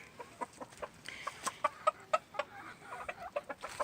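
A backyard rooster gives a quick series of soft, close clucks, calling his hens over to food; the short, rhythmic pulses come in an uneven burst against quiet surroundings.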